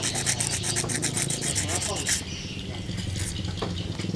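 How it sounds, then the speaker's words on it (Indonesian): Sandpaper rubbed by hand over a crusted, blackened part from a Honda Beat scooter, fast rhythmic scratching strokes close up for about two seconds, then softer scraping with a voice talking. "Ini kita bersihkan dulu di amplas-amplas."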